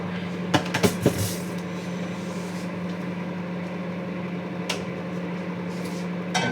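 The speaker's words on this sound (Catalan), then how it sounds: "Anem a fotre això al microones." A microwave oven in a small kitchen running to defrost food, a steady low hum throughout, preceded by a few sharp clicks and knocks as the door shuts and it starts.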